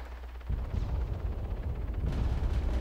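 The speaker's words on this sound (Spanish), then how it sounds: "Estoy escuchando tiros." Dense bursts of gunfire and explosive booms in the video game Arma 3, loud and continuous after a brief quiet start, with a rumbling low end throughout.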